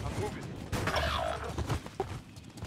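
Video game shotgun blasts crack out amid busy gunfire and clatter, with one sharp report standing out; players talk over the action.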